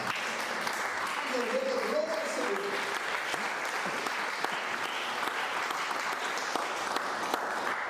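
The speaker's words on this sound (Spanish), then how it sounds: "Alguien aplaude al Señor." Church congregation applauding during a sermon, a steady dense wash of clapping from many hands throughout, with a preacher's voice speaking briefly over it.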